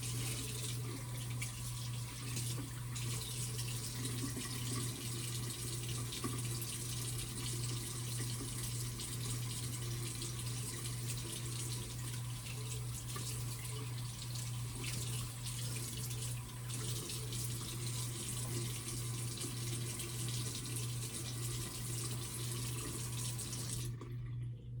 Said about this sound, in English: I'm just gonna put water in my hair first